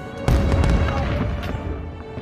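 Fourth of July fireworks booming in a dense, continuous barrage, with a sharp loud burst near the start followed by overlapping rumbling explosions and pops that keep rolling without a break.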